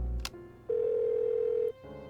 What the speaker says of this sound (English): Mitsuru suddenly stood up and dialed a number.